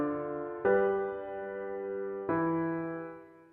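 A short four-part harmony excerpt of two bars plays as two sustained keyboard chords, each struck cleanly and left to ring and fade, fairly quiet and alone with no voices.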